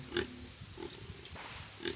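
Native pig on a farm in the provinces, grunting in a few short bursts, fairly close, with no talk.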